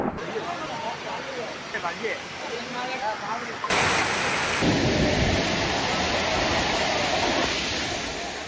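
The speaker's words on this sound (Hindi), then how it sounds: "सुंधा माता पहाड़ी क्षेत्र में बारिश मूसलाधार।" Dense, steady monsoon downpour over the Sundha Mata hills in Jalore, Rajasthan, pours down with a constant roar of water, growing heavier partway through, with no voices heard.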